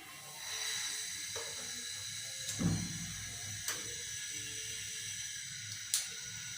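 A gas stove burner is lit under a pot of pointed gourd on a home kitchen hob: a low click and whoosh of ignition, then a steady soft hiss of gas flame with a few faint clicks, quiet and close.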